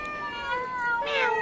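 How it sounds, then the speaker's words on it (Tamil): A cat meows twice at close range, two drawn-out, rising-and-falling cries with no talking. "அது பூனை வந்து அப்படியே வந்து நின்றுட்டுருந்து அது கத்திகிட்டே இருந்துச்சு"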